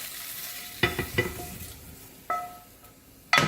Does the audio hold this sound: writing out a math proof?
no